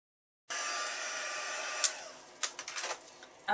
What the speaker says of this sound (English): you're going to go ahead and heat set that because you're going to stamp over it